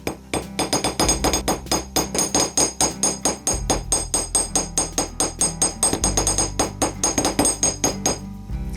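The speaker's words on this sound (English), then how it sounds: "I'm gonna take my fine silver wire and just hammer the end of it" Fine silver wire has its end hammered flat on a hard steel surface for wire-wrapped earring hooks, giving about thirty sharp, rapid metallic taps in a steady rhythm, close and alone.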